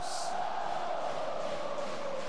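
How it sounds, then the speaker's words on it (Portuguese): A packed Brazilian women's volleyball arena crowd at an Osasco versus Rio de Janeiro semifinal roars continuously, a loud and sustained wash of cheering and chanting voices. "Está enlouquecida aqui a torcida"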